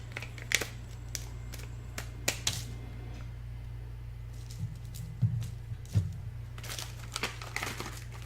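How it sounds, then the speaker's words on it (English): Scissors cutting into crinkly snack packaging during a Munchpak unboxing, with sparse close crisp snips and crinkles against a steady low hum, no talking. "So I'm gonna continue opening it with the scissors instead here."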